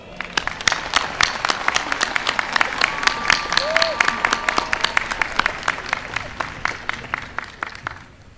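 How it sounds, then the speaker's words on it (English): Graduation ceremony crowd at Howard University applauding the class of 2025, a sustained wash of clapping with sharp individual claps standing out and some cheering voices mixed in, fading toward the end. "please join me in celebrating them with a heartfelt Bison round of applause"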